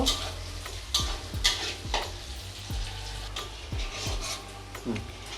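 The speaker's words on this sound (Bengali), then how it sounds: "এই তেলে আমি পেঁয়াজগুলো ভেজে নেব।" Medium-sized onions sizzling and frying in oil, with a steady crackle close by and repeated scraping of a spatula stirring the pan.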